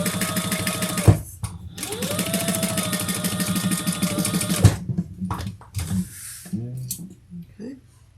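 A sewing machine stitches along the fold of a crossbody bag's lining slip pocket in quick rhythmic bursts, pausing between runs, with soft handling clicks and a quiet voice in the gaps near the end.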